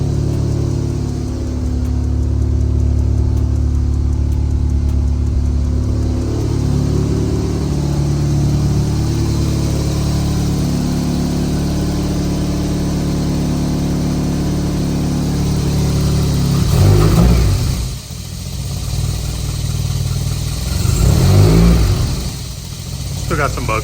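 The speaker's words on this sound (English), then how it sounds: "it seems like it's idling really, really well on its own" A Mazda Miata 1.6 engine running on a newly installed Link ECU settles into a steady idle, a continuous close mechanical hum that swells and dips slightly near the end.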